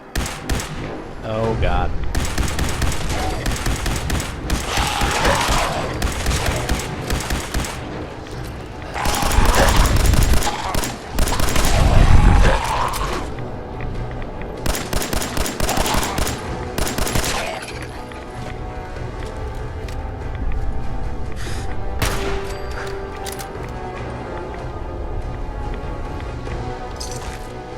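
Gunfire in Fallout 4 during a skirmish with ghouls on the road: dense, repeated volleys of shots with heavier bursts midway, loud and close, while a voice briefly exclaims.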